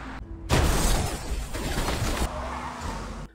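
A truck strikes a man in a Korean drama scene, a sudden loud impact burst with crashing and clattering that rumbles on for a few seconds before cutting off.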